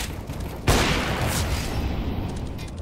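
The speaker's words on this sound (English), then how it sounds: "Flashbang." A flashbang grenade goes off in Counter-Strike as a single loud, close burst, then leaves a sustained noisy wash with faint background game sounds.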